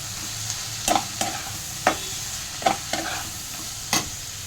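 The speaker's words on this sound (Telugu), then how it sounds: "ఇలా ఉప్పు వేసుకుంటాం, మధ్య మధ్యలో కలుపుకుంటాం" Onions frying with chili and salt in a pan, stirred now and then with a spoon that scrapes and knocks against the metal several times over a steady soft sizzle, close up and without voices.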